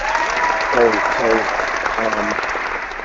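Steady applause from an audience fills the whole stretch, with a voice talking over the clapping.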